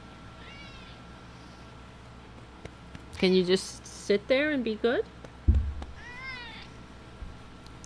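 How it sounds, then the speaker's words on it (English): A house cat meows several times, a few short wavering calls spaced out between close talk from a person holding it, plus a brief thump. "I love this cat."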